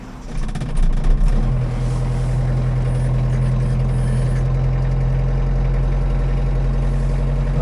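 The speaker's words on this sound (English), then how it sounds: "Okay, so this is the B3350. Again, this is just at an idle." Kubota B3350 compact tractor engine idling, a steady low diesel rumble that holds constant throughout at close range, with a slight swell in the first two seconds, then an even drone.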